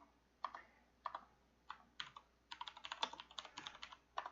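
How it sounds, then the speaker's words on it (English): Typing on a computer keyboard: isolated keystrokes at first, then a quicker run of clicks, close and fairly quiet. "I need to learn to type."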